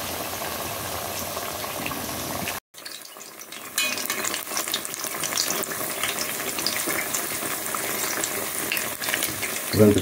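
Spanish fritters frying in a pan, Jamaican home cooking: a steady, close, bubbling sizzle that runs throughout, broken once by a brief dropout early on.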